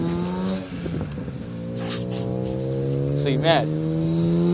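A clunker car's engine drones and revs in a video game, a steady harmonic whine climbing slightly, with a loud voice talking over it.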